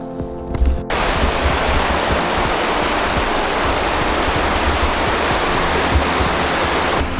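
A steady, loud rush of falling water roars without a break, close by, after a brief quieter moment at the start.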